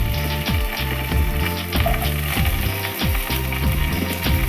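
Chopped vegetables such as potato, raw mango and tomato sizzle in a hot pan for South Indian sambar, a steady loud crackle broken by regular scraping stirs, with no voices.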